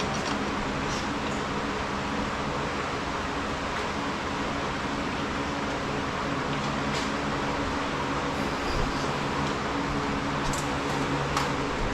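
Fans running throughout a workshop where tubing bender parts are being worked on give a steady broadband whirring drone that holds evenly for the whole stretch, with a few faint clicks over it and no talk.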